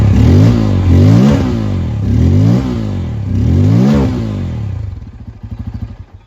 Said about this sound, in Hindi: और इसका एग्जॉस्ट एक बार सुनते हैं।